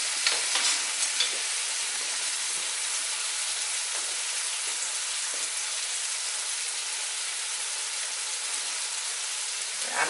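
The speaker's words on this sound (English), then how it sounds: "So now I'm going to add the rice." Rice going into a paella pan and being stirred gives a continuous bright sizzle and scraping hiss, fairly loud and steady, with no voices.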